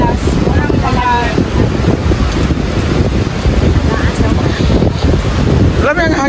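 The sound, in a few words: wind blowing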